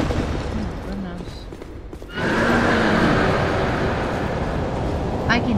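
A horse whinnies in Dark Souls 2: Scholar of the First Sin. A wavering neigh opens, then a sudden loud, dense rumble of game noise takes over and holds to the end.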